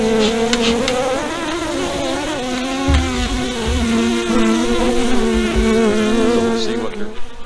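Dense, close buzzing of many honeybees from an opened beehive, a loud continuous drone with wavering pitch and occasional soft knocks of handling.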